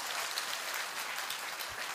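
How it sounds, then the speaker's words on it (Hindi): A crowd claps together in a steady, dense burst of applause at a religious gathering, a brief continuous patter of many hands with no talking. "ताली बजा करके प्रसन्न होकर घर चले जाओ"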